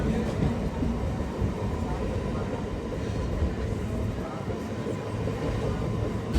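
A Kazipet–Secunderabad MEMU train runs along the tracks near Pemberthi, a loud continuous rumble and rattle heard from inside the moving carriage, steady throughout.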